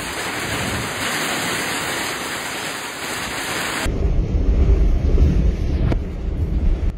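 A heavy thunderstorm in Sydney, New South Wales, Australia, brings dense, steady rain and thunder. A loud rush of rain fills the first half, then turns into deeper, rumbling, gusty roaring with no voices.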